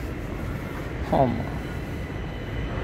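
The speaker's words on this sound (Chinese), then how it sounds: "蒸汽火车来了" A model steam train runs on a railway layout at a railway-model exhibition hall, giving a steady low rolling rumble with a brief squeal near the middle, and a person speaks briefly over it.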